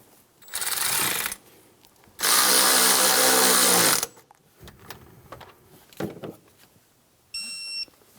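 A power tool snugs down the starter bolts on a 2003-2008 Honda Pilot, with two loud sustained whirring bursts of about a second and two seconds, then quieter clicks and clunks and a short beeping tone at the end.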